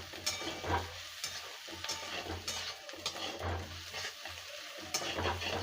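Semai frying in a pan with garam masala, a steady sizzle broken by repeated scraping stirs at a regular rhythm, close and fairly loud, with no voices.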